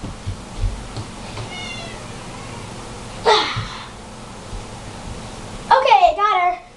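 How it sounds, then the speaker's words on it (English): A domestic cat gives a few short, clear meows spaced several seconds apart, with the last one louder and more drawn out, over quiet rustling indoors. "Ooh, there's my other cat."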